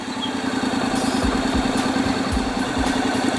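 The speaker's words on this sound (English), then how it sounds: "Turn on the bike. Make sure it's in neutral. Start the bike." Honda DCT motorcycle idling in neutral after starting, a steady low mechanical hum with faint rhythmic thumps, close and moderately loud.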